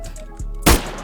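Gunfire from the FMG in the Roblox game Arsenal: a loud, sharp burst of shots near the middle, with a softer report before it and another near the end.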